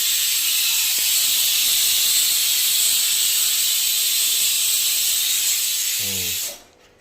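A pressure cooker in a home kitchen releases a loud, steady whistle of hissing steam for several seconds, then cuts off abruptly, leaving a few faint clicks and low household sounds.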